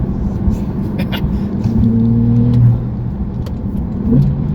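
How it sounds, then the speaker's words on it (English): A Porsche flat-six engine revs up and drops back in pitch as gears shift down, a close, throaty rumble with no talking. "downshift sounds awesome too. It's just very Porsche, very flat six"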